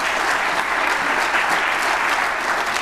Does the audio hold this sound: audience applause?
yes